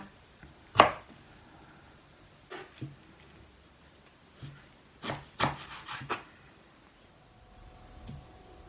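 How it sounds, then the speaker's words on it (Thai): Sparse knife chops through taro on a cutting board, a sharp knock followed by several softer, irregular cuts in a quiet kitchen. "หั่นเผือกนะคะ"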